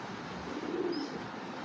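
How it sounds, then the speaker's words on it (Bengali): A female racing pigeon, a good-sized hen, coos low and faintly in a brief, muffled burst over a steady background hiss. "মাদি কবুতরটা সাইজ দেখেন।"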